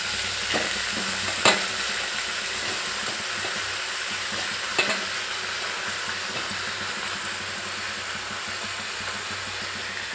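Brinjal pieces fry with tomatoes in a hot pan, a steady close sizzle running throughout, broken by a couple of sharp spoon clinks as the mixture is stirred; no one speaks.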